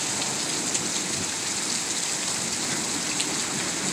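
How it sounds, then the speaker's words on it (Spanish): Steady rain falls and patters on surfaces in Oaxaca, Mexico, a continuous soft hiss with no voices. "parece que ya se calmó la lluvia"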